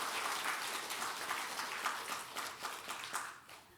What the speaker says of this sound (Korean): 우리 박수 한번 다시 하십시다.